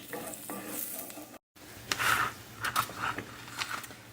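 A red wine and shallot pan sauce bubbles and sizzles on medium heat in a pan, with close stirring scrapes and soft spatters and a brief dropout partway through.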